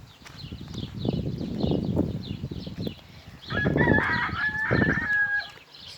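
Chickens cluck and squawk close by, with a rooster-like drawn-out call rising in the second half over a busy farmyard background.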